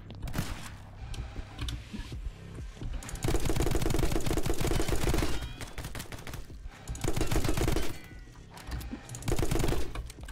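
Video game gunfire in My Friend Pedro comes in dense rapid bursts of loud shots and automatic fire, broken by brief lulls, with game music and effects underneath.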